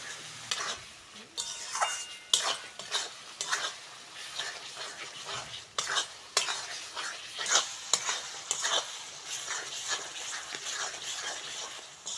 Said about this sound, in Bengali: মশলার সঙ্গে কাঁটাল দানাটা ভালো করে ভেজে নিয়েছি